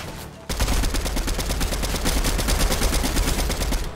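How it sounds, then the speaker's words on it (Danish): Rapid automatic gunfire rattles without pause in Fortnite at Tilted Towers, a loud, dense stream of shots after a short quiet opening. "Der bliver skudt."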